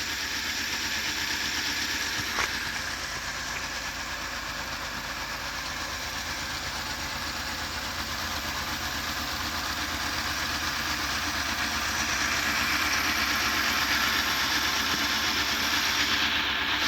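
Small electric motor running inside a Lego Titanic model driving the gear tower and propeller shafts, a continuous steady hum and whir, close and even throughout with no talk.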